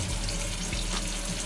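Water drains and runs steadily out of a bowl of freshly washed raw chicken, a continuous splashing, faucet-like flow heard close up with no talking.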